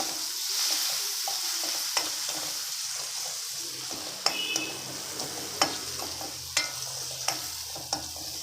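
Chopped tomatoes fry with onions in a pan, a low steady sizzle punctuated by sharp, evenly spaced spatula scrapes and taps as the mixture is stirred.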